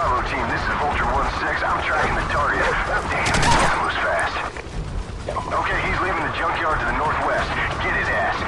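Gunfire in the Call of Duty Modern Warfare campaign, a dense, steady fusillade of shots running throughout with a sharp burst near the middle, with voices talking over the battle.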